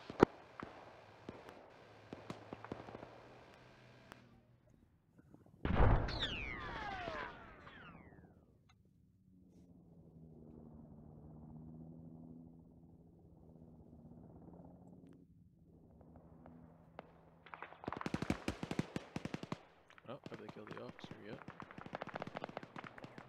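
Bursts of gunfire and explosions striking a BMP-1 armored vehicle in a military video game, a sharp loud crack followed by rumbling, engine drone and later dense rapid shooting.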